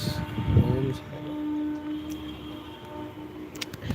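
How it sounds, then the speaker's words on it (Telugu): A train rumbles past at a distance, with a low drone and a brief steady horn-like tone in the middle. "ట్రైన్ సౌండ్ వినిపిస్తుందా మీకు"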